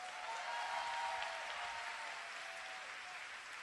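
Steady applause from a large audience at a conference talk, many people clapping evenly at a distance in a big hall, sustained for several seconds without speech.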